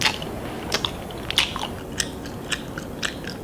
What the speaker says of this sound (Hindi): इससे भी एनोइंग है खाने को चपचप करते हुए चबाने का साउंड।